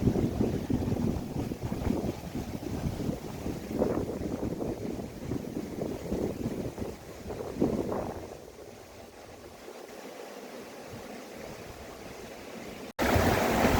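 A small stream flows over rocks on a hillside near a mountain village, a steady broadband rush mixed with gusty wind buffeting the microphone, easing and quieting toward the end.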